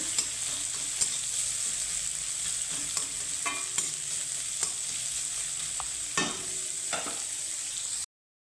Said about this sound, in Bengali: পেঁয়াজটাকে আমি হালকা ভেজে নেব